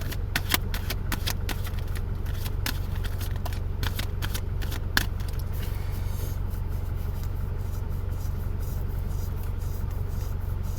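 Tarot cards being shuffled by hand during a reading, a steady run of crisp riffling flicks and slaps at close range with a low background hum, sharper snaps around the first five seconds.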